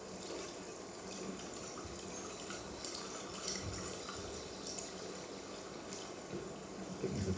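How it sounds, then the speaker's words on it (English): Steady water noise in a wild outdoor setting, recorded on Loch Garten in Scotland: a continuous broadband rushing wash, fairly faint, with a slight swell near the end. "maybe just some water noise to start off with."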